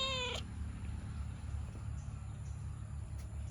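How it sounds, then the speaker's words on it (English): A single short cat meow right at the start, then a steady low rumble of background noise with no further calls. "This is a cat."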